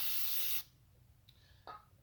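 Aerosol can of brake cleaner sprayed in one loud, close hiss lasting about half a second, then a quiet pause with a couple of faint clicks and a short puff.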